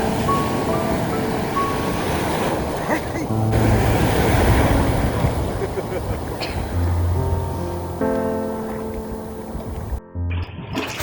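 Sea waves wash in at Cox's Bazar beach as a loud, broad roar of surf with wind buffeting the microphone, while voices speak over it throughout.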